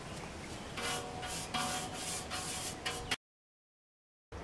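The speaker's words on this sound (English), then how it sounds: "we remove some debris with our soft brush again" Soft brush sweeping sanding debris off a historical marker, steady close scrubbing strokes in a quick repeating rhythm, ending abruptly in silence before a brief return.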